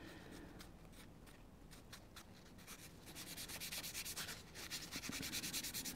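Cloth rubbing Autosol metal polish onto a guitar fret, a close, steady scrubbing rhythm of quick back-and-forth strokes that grows louder and faster toward the end, with no talk.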